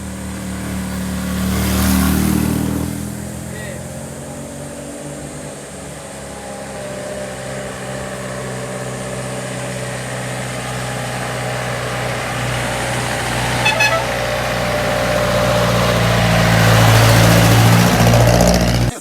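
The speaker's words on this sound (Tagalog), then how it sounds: "Jeep, tol." A jeep engine driving past on a steep mountain road, a loud motor drone that swells, holds, then rises again as the vehicle draws close near the end.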